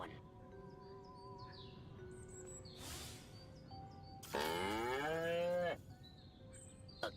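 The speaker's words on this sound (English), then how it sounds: "Again with the moo?" A cow gives one long, loud moo that rises and holds for over a second, set against a quiet outdoor background with faint bird calls around it.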